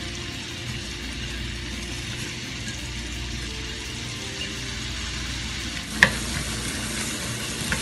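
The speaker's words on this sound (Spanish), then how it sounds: "ya puse el ajo. Voy a poner la cebolla." Onion is added to garlic frying in a pan over medium-high heat and sizzles steadily and closely, with light stirring scrapes and one sharp utensil clink near the end.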